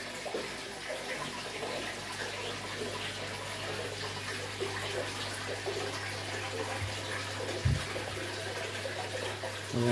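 Water runs steadily through a hose or tap during an aquarium water change, a continuous broadband rush that fills the whole stretch, with a low steady hum underneath and a few faint knocks.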